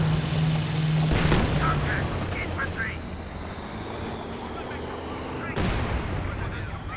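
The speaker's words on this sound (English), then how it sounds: "Heavy mortar strike out the back by the mortar pit, getting a bit of damage done" A heavy mortar strike lands in Company of Heroes 2 with booming explosions and rumbling impacts, under a steady wash of battlefield noise.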